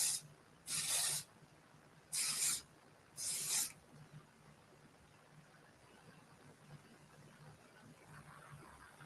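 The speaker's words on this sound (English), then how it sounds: "I'm going to spray." Adhesive spray misted along the edge of a lace wig: three short hissing bursts in quick succession, close and crisp, followed by quiet.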